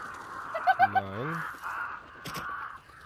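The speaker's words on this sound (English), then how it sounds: "One thing I've noticed about Scrapbeak's compounds is there are lots of crows here." Crows at Scrapbeak's compound in Hunt: Showdown give a quick burst of several harsh caws, fairly close, with a voice talking alongside.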